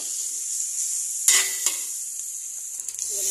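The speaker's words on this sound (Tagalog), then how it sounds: "Hakok lang natin yung gulay" Vegetables stir-fried in a pan give a steady sizzle with a few sharp utensil scrapes and clinks against the metal, close by and with no talking.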